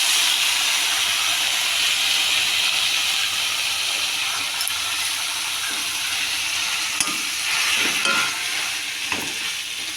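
Water lily stems dropped into hot spice mix in a pan, a loud continuous hissing sizzle with occasional stirring clicks and clatters.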